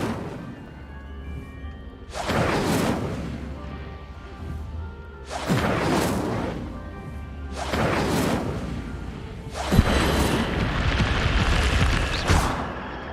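Incendio fire spells are cast again and again in Hogwarts Legacy, each one a loud whooshing roar of flame with crackling bursts, four big surges with a rumbling background between them and no talking.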